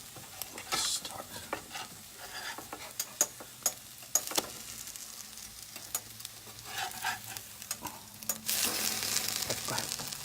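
Pumpkin French toast fries in a pan with a continuous soft sizzle, punctuated by frequent close clicks and scrapes of a utensil, and the sizzling grows louder and hissier near the end.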